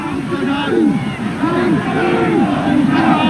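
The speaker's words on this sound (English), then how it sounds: "the crowd starts screaming again" A large crowd at a rugby match between Boland and the All Blacks roars and chants in rising, wavering swells, loud and continuous, with some speech mixed into the din.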